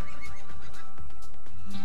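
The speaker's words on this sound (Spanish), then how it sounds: "El caballo." A horse in the survival video game Westland Survival lets out a loud, close whinny lasting under two seconds, with faint clip-clop of hooves.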